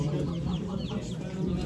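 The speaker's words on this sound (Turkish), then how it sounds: "Japonez tavuk. Japonez horoz." A Japanese bantam rooster clucks at a poultry auction in Ankara, giving short, rapid clucks over steady crowd and barn noise.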